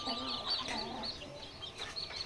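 Faint, soft clucking and chirping from several day-old Tiger layer chicks over a continuous background hiss, fairly distant and quiet.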